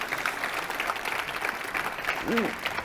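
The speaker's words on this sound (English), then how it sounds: "So give that a round of applause, please." Audience applause at a food industry panel event, a steady wash of many hands clapping throughout, with a brief voice breaking through near the end.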